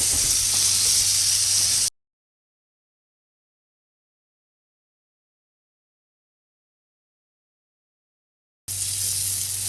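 Green peas frying with turmeric in a pan for samosa filling give a steady, close sizzle that runs briefly, cuts to a long silence, then returns at the end.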